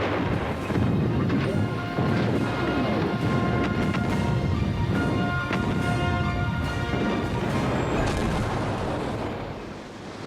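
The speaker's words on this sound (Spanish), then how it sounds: "Tres andanadas de tres." Heavy naval guns firing broadsides during World War II, a continuous loud wall of rumbling booms and crashes with repeated sharp impacts, sustained for several seconds before easing slightly at the end.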